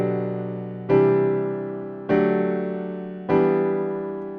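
Synthesized chord progression with two sustained pedal tones added, three chords struck in turn about a second apart, each swelling in and decaying slowly, bright and harmonically rich with no voices.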